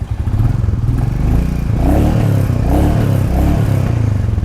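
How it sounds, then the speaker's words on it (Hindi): Royal Enfield Bullet Standard 350 motorcycle idling with its exhaust note: a loud, steady, deep thumping single-cylinder beat, close and continuous with a slight swell in revs midway. "कुछ इस तरह का एग्जॉस्ट नोट मिल जाता है आपको।"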